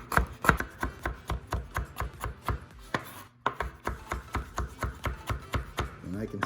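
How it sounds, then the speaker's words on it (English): Rapid knife chopping of garlic on a cutting board, about three crisp strikes per second in a steady rhythm with one short pause midway, close and fairly loud, in a kitchen while a margherita pizza is being made. "And we also need to add this garlic. So we're gonna chop this down into small pieces, not too big."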